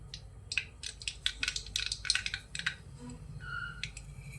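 Mustard seeds pop and crackle in hot oil in a home kitchen, giving quiet, irregular sharp clicks in quick bursts over a faint low background.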